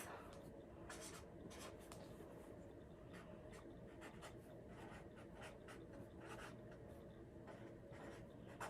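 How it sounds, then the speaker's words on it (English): A number being written on a paper calendar: faint, close scratchy pen strokes in short bursts over a low steady background hum. "I'm going to go ahead and write it down"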